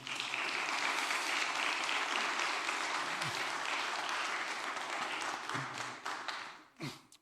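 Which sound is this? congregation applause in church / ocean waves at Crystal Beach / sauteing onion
congregation applause in church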